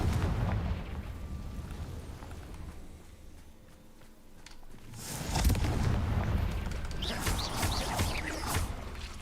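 A Confringo spell explosion in Hogwarts game combat bursts midway as a loud fiery blast, following a rumbling stretch of battle noise and scattered crackling impacts.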